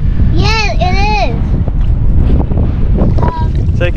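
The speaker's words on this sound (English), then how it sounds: "But yeah, a little bit windy today." Wind of about 15 to 18 knots from the southeast buffets the microphone on a small fishing boat on the Gold Coast Broadwater, a constant low rushing roar with a voice and other talk over it.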